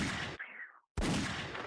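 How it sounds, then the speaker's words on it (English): A gunshot sound effect played on a podcast, a loud blast of gunfire that drops into a short silence and then fires again, sustained and harsh, with no talking. "Give him a gunshot while we at it."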